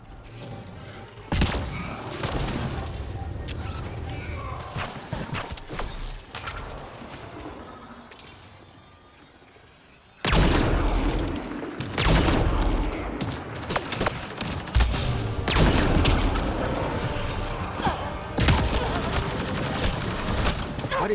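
Gunfire pelts the player in a space exploration video game, dense crackling bursts that come and go, a quieter lull in the middle, then heavy rapid volleys that return loud and keep going, with a voice talking in between.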